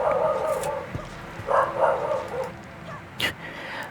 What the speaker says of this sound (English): Oh, there's my dog barking.